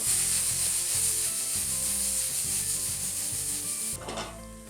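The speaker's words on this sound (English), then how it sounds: "Next, we're going to add the white part of our green onions and our edamame, which are soybeans, and we'll give them a quick saute" White parts of green onion and edamame soybeans being quickly sautéed for Thai chili chicken: an even, close sizzle with rough scraping stirs that ends abruptly near the finish, followed by a brief clatter.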